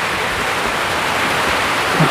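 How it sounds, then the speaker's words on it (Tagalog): Strong wind drives rain spraying in under a shelter in a forest, a dense, continuous, loud hiss of wind and rain with no break. "Malakas kasi ang hangin mga kabayan. O, umaanggi rin dito."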